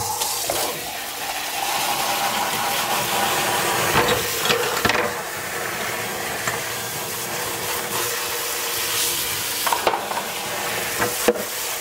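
Burger mixture sizzles in a nonstick waffle maker, a steady close frying hiss with occasional crackles and pops, no voices.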